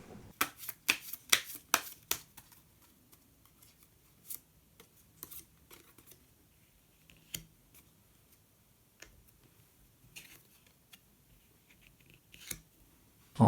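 Tarot cards are shuffled and drawn at close range in a quiet room. A quick flurry of crisp card snaps gives way to scattered, sparse flicks and slides.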